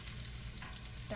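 Chopped onion tipped into a pan of garlic already frying in hot oil, giving a steady close sizzle with stirring and a short burst of crackle near the end.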